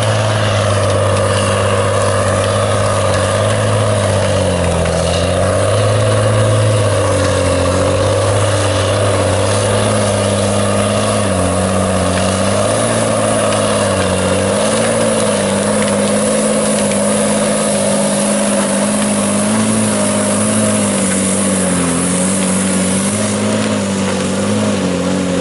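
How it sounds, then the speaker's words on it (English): A truck engine labours steadily and loudly as the truck drives up a hill, a deep continuous drone whose pitch wavers slightly as it pulls, with no talk over it. "He just drove over coming up that hill to Kevin right there."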